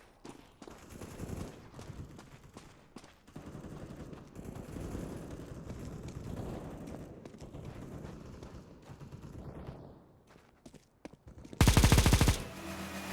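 Rapid automatic gunfire and scattered shots from CS:GO at 1080p high settings ring out at steady loudness for most of the stretch, then stop briefly before a sharp, loud burst near the end.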